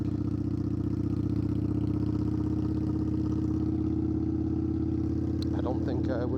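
An Indian Scout Bobber motorcycle engine thrums low and steady at about 1800 RPM in second gear while climbing a hill, loud and continuous, with brief talking near the end.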